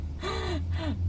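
Two sharp breathless gasps from someone winded after moving house, close and clear, one right after the other over a low steady hum.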